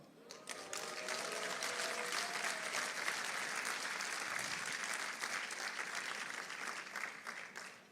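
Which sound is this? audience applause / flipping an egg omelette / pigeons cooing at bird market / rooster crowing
audience applause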